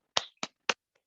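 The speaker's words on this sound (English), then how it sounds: "Yay, just start clapping." Hand claps during a heart chakra yoga meditation session, three crisp, close claps spaced evenly apart followed by a much fainter fourth, with silence in between.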